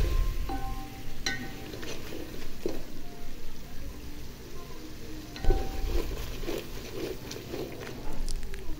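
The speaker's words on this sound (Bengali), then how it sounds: "এখন আমি সব মশলা একবারে ভালো করে কষিয়ে নিব।" Spices and tomato sauce sauté in a pan with a steady low sizzle, punctuated by occasional scraping stirs and spoon taps against the pan.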